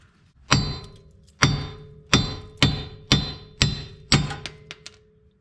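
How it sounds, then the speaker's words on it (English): Seven heavy metallic sledgehammer blows hammering out a car wheel stud, close and loud, landing at an irregular pace with a ringing clang after each strike. "So now what you're going to want to do is literally just hammer it."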